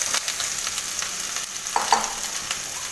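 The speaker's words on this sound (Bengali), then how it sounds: "এবার একসাথে পুরোটাকে খুব ভালোভাবে কষিয়ে নেব।" Dried fish, fried eggplant and beans being stir-fried together in a pan make a steady close sizzle broken by repeated light scrapes and clinks of the spatula, with no talking.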